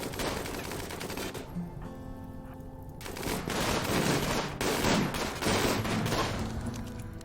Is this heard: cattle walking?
no